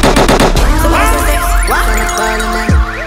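Gunshot sound effects dropped into a Trinidadian dancehall mix, a burst of rapid machine-gun-like shots followed by laser-like zaps and sweeping effects over a loud bass-heavy beat.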